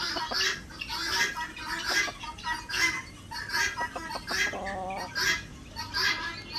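Caged Kadaknath chickens at a forest jungle resort near Koyna, giving repeated nasal clucks and squawks in irregular bursts, fairly close, with faint background noise.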